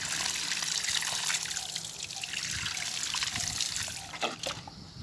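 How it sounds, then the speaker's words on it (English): Water trickles and splashes steadily into a watering can during container vegetable gardening, a continuous close liquid rush with slight shifts in flow. "So we just want 1 scoop in his watering can, and then we'll fill it up."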